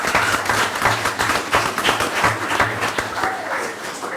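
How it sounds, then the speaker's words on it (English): A room of people gives the team's athletes a round of applause at a sports meeting, steady, dense clapping from a medium-sized crowd lasting several seconds, with faint voices mixed in. "you deserve a round of applause"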